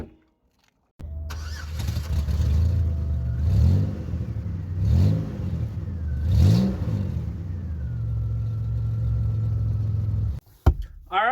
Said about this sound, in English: I think it's ready to take it for a test drive now.